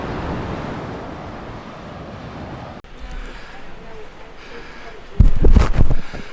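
Atlantic Ocean surf washes onto a quiet Bahamas beach with steady wind noise on the microphone, the waves a constant near roar that swells louder in a brief burst at the end.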